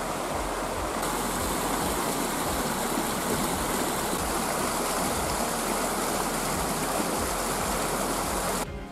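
The Kopytná stream rushes in a steady, dense babble of flowing water, close and continuous throughout with no voices.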